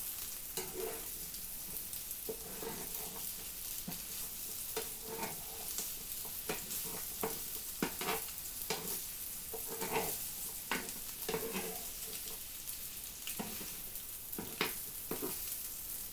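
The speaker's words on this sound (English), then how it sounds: "Frying it won't soften the tteokbokki." Tteokbokki rice cakes fry in a pan for a fusion dish, giving a steady, close sizzle broken by frequent short clatters of stirring, with no one talking.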